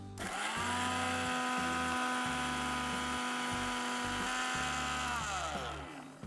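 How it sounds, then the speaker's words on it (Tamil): A Preethi mixer grinder grinds a roasted gram ladoo mixture into fine powder with a loud, steady high whine and a pulsing low hum for several seconds before winding down. "இதை மிக்சியில் போட்டு ஒரு ஃபைன் பவுடராக அரைக்க போகிறோம்"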